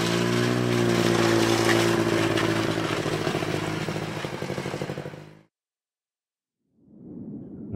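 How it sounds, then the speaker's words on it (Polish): A snowmobile engine in the video game Alpha Polaris drones loudly and steadily for several seconds, fades out into silence, then starts rising again near the end. "Let's take the snowmobile and pull her."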